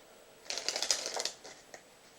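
An old Tally-Ho playing card deck is spread across a surface, giving a soft crisp riffle of papery clicks lasting about a second, then a couple of fainter flicks; close and quiet, with no talking.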